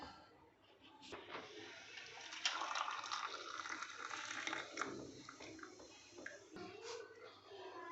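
Turmeric cough-remedy liquid strained after brief cooking, a soft continuous trickling pour heard close and fairly quiet, steady for several seconds with no talking.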